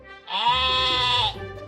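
A sheep gives one long, steady bleat of about a second with a strong, sustained tone. No other sounds or voices are heard.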